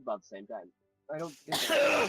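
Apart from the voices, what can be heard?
sneeze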